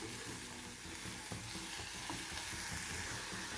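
Ridge gourd pieces fry in a pan for a ridge gourd fry as they are stirred, a faint continuous sizzle with soft occasional stirring knocks and no talk.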